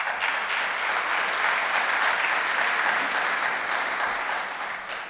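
An audience in a theatre hall at a classical concert applauds, a full, even wash of many hands clapping that stays steady and then tapers off, with no speech.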